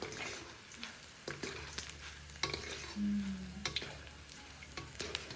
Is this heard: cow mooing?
no